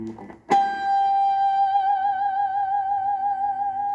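A single electric guitar note through an MXR germanium distortion pedal is struck and sustains with a smooth, slightly distorted tone, ringing steadily with gentle wavering and no other sounds.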